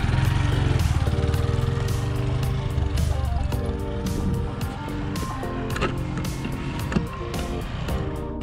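A Honda MSX125 motorcycle idles and pulls away in first gear, a steady low engine drone with a buzzy, uneven beat running throughout, no talking.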